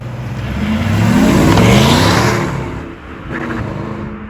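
A 2003 Ford Mustang SVT Cobra drives along a road, its engine note swelling into a loud, sustained rev before easing off briefly and picking up again, heard close with no talking.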